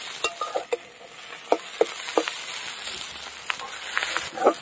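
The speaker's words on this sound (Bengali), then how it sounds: "মাছের তেল পটকা দিয়ে শাক ভাজা রেডি হয়ে গেছে, মুলো শাক ভাজা" Radish greens fry in a pan with fish oil and fish offal, giving a continuous sizzle broken by repeated scraping and stirring clicks of a utensil against the pan.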